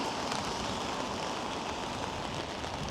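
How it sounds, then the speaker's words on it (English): Heavy rain falls steadily in Blackpool on a winter night, a dense, even hiss of drops on surfaces that carries on with no pause and no voices. "this rain is coming down heavier than ever"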